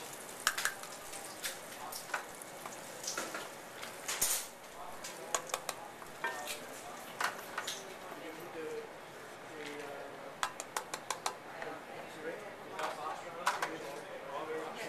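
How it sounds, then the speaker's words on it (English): Diced mirepoix sweating over low heat in melted oil and butter in a pan, a steady soft sizzle broken by frequent clicks and scrapes of a utensil stirring, close by, while a person talks over it. "add your mirepoix into the pan and sweat"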